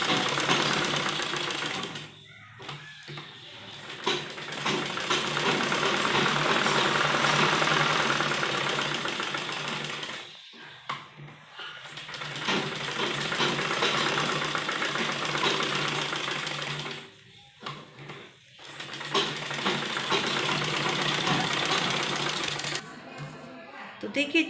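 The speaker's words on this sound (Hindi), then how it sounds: "तो सबसे पहले हम इसके चारों तरफ कच्ची सिलाई करेंगे।" A sewing machine runs basting stitches around the edges of fabric for a kurti neckline, whirring in long continuous stretches broken by short pauses, with someone speaking.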